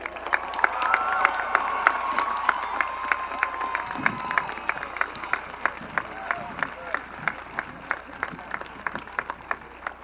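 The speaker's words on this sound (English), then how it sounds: "Audience, please give the graduates in Section A a standing ovation." Audience applause for graduates at a school graduation ceremony, a dense steady wash of clapping with cheering and crowd voices mixed in, fading slightly toward the end.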